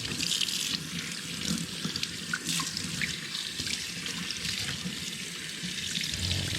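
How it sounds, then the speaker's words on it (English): Tap water runs steadily into a sink while raw octopus is rinsed, a continuous close splashing hiss with small irregular spatters. "Just take it, just give it a nice thorough rinse."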